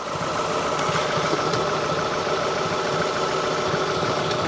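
A Ford Focus MK1 1.4/1.6 engine running with a completely worn bushing, a steady loud idle with a continuous rough mechanical rattle and vibration, close up and without speech.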